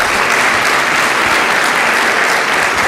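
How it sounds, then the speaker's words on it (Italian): Dense, loud applause from a sports gala crowd in the Veneto, honoring the former athlete Sara Simeoni, sustained and even throughout without pause. "farei un grande applauso a Sara Simeoni"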